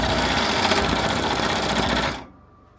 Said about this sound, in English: just stitching out the design